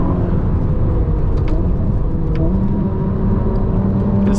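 A Ferrari SF90 hybrid supercar accelerates on the road, a loud, steady engine drone and whir mixed with rumbling road noise and a few brief clicks, heard from inside with no talking.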